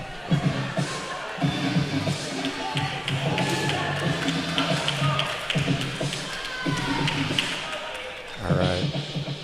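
Indoor pickleball match crowd cheering and clapping in bursts around the court, with paddle taps and footsteps between swells and a commentator's voice running over the noise.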